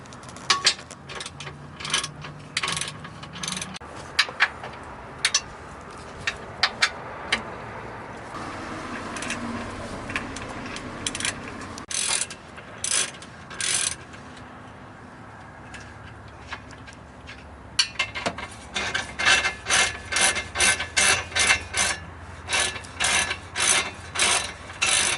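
A ratchet wrench loosens 14mm bolts on the exhaust support bar of an Acura or Honda during a J-pipe exhaust install, giving bursts of rapid close clicking separated by pauses, growing faster and more regular near the end.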